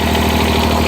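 A John Deere 330 diesel tractor idles steadily after a cold start in near-freezing weather, a loud, close, even rumble with a rapid regular pulse throughout.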